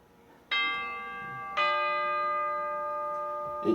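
A tubular bell in a dark-toned beat, struck twice about a second apart, each strike ringing out clear and bright with a long sustained decay and no voices.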